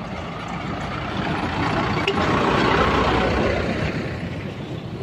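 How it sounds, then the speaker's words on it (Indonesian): A truck loaded with sand drives past, its engine giving a loud, steady broadband rumble that swells slightly toward the middle and holds throughout. "Mobil ini muat pasir."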